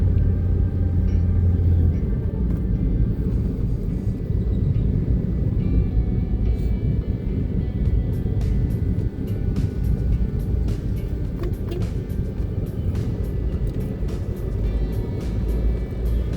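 A car cruises toward the Cileunyi toll gate onto the Purbaleunyi toll road, with steady low road rumble and engine drone heard from inside the cabin and no talking.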